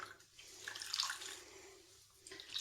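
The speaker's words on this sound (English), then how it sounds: "I am just going to do a brief rinse" Running water rinsing a synthetic wig coated with leave-in conditioner, a brief close splashing flow that swells, dips and rises again, with no voices.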